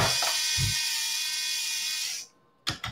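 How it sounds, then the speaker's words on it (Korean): Motors of an educational robot kit spinning at once, a continuous high buzzing whir that cuts off near the end, followed by a few brief clicks and handling knocks. "모든 모터가 회전을 합니다"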